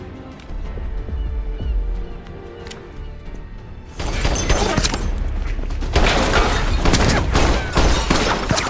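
A film gunfight between soldiers and terrorists, starting with a low rumbling background and then breaking into dense, loud volleys of overlapping shots and booms that continue to the end.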